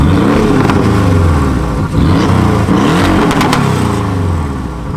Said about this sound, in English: Park it up, let's rev it.